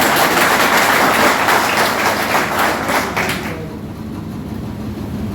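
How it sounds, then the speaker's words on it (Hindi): Audience applause greeting guests in a packed hall at a political gathering of traders in Lalganj, loud dense clapping that fades after about three and a half seconds into quieter room noise. "मेरे कहने से भी जोरदार तालियों से इनका स्वागत है"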